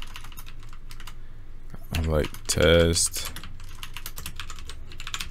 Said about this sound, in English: typing your server name.